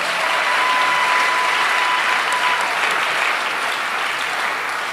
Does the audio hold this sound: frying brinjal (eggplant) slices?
no